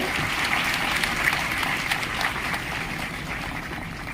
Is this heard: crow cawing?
no